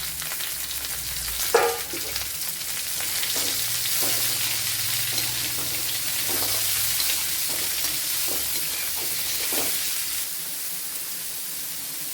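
Two medium onions, a small piece of carrot and cumin fry in a pan, giving a steady sizzling hiss with repeated scraping stirs and a louder clatter near the start.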